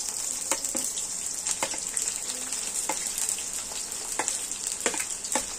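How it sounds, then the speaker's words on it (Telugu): Onions fry in hot oil for a chicken fry with a continuous bright hiss and crackle. Irregular spatula taps and scrapes come through the sizzle, close but fairly quiet. "ఫస్ట్ మనం అయితే ఈ నూనెలో చికెన్ ఫ్రైకి ఫస్ట్ ఆనియన్స్ వేస్తున్నానండి।"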